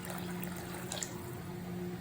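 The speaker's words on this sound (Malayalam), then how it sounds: "ഇനി നമുക്കതിന് ആവശ്യത്തിനുള്ള കുറച്ച് വെള്ളം കൂടെ ഒഴിച്ചു കൊടുക്കാം." Water trickles into a pot of rasam being cooked, a faint, steady liquid pour heard close, low and continuous over a constant background hum.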